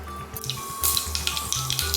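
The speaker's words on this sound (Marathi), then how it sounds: "इथे मोहरी चांगली तडतडलेली आहे." Mustard seeds crackling and popping in hot oil for a tempering while making khaman dhokla, a dense run of sharp sizzling pops over steady frying hiss, close and fairly loud.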